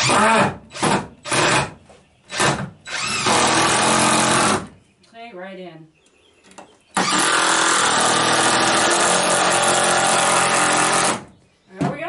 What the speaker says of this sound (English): In case you're wondering, that's the sound of an impact driver.